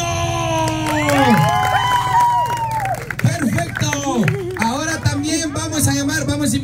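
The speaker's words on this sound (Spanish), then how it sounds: "un aplauso para Baldo." An audience at a live comedy show cheers, whoops and claps loudly and continuously, with excited shouting voices mixed into the crowd noise.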